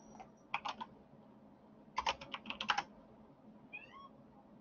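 A house cat meows a couple of short times, fairly near, amid bursts of computer keyboard typing in a quiet room.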